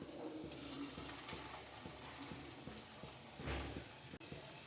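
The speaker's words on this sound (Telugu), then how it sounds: "ఇప్పుడు మనం 1 బై 1 అన్నీ ఆయిల్లో వేసుకుందాం." Gulab jamun dough balls dropped into hot oil fry with a steady soft bubbling sizzle, faint and continuous, with a brief louder splash partway through.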